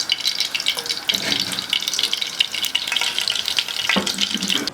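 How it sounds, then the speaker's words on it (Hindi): Mustard oil heating in a hot pan, giving a steady close hiss and sizzle with soft crackles and faint clinks throughout, no voices. "ये पैन हमारा गर्म हो चुका। अब हमने इसमें मस्टर्ड ऑयल डाल दिया।"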